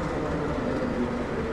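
Lodaya passenger train from Bandung to Solo rumbling along the rails, a steady close interior roar with no voices over it.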